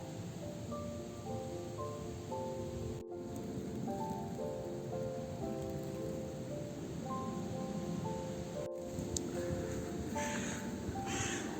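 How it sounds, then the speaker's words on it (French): Crows caw in the distance in Père Lachaise cemetery, their harsh calls repeating irregularly over a constant wash of rain-like hiss. "On entend les corbeaux."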